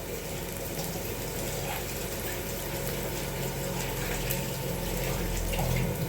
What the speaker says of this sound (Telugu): చిక్కుడుకాయ కడుగుతున్నా